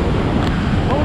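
A roaring waterfall in rural countryside, loud and close, a dense steady rush of water noise with wind buffeting the microphone.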